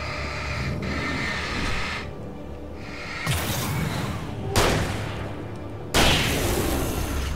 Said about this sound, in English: We'll just shotgun on this asshole.